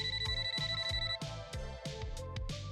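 A phone ringtone for an incoming call plays loudly and alone, repeating a bright, rhythmic electronic pattern for about three seconds.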